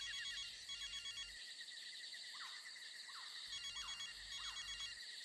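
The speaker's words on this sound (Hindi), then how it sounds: "घंटी जा रही है" A mobile phone buried under soil rings with a repeating electronic ringtone. The rhythmic bursts are fairly quiet and sound somewhat distant, and no one speaks.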